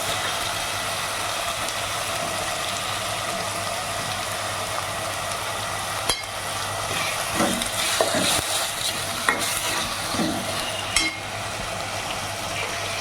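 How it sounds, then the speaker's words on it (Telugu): Onion paste and curry leaves frying in a pan, a steady broadband sizzle running throughout with occasional scrapes and stirring clatters near the middle and end. "ముందుగానే గ్రైండ్ చేసి పెట్టుకున్న ఉల్లిపాయ పేస్ట్ వేసుకుందాం. కరివేపాకు యాడ్ చేసుకుందాం."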